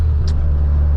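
A Mazda RX7 FD drones steadily from inside the cabin on a touge mountain road, a loud, continuous low rumble with no distinct revs, over about a second.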